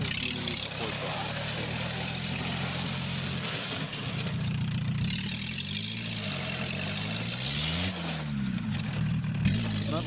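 A small old Volkswagen Fox engine drives along with a steady mid-pitched drone, its pitch rising and falling with throttle, while voices talk over it throughout.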